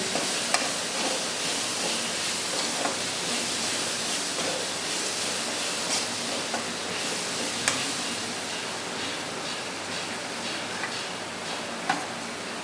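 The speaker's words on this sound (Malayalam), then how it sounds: "ആദ്യം ഉരുളക്കിഴങ്ങ് ഇട്ടത് അതൊന്ന് നന്നായിട്ട് ഇളക്കി കൊടുത്തേച്ച്" Potatoes fry for vegetable fried rice, a steady sizzle filling the pan while a spoon stirs them with scattered light scrapes and ticks, continuous and close with no voices.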